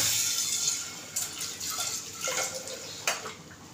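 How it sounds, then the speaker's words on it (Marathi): Hot water is poured into a pot of dal palak (lentils with spinach) in a home kitchen, giving soft, faint splashing and trickling in short bursts. "मी आता गरम पाणी घालते थोडं."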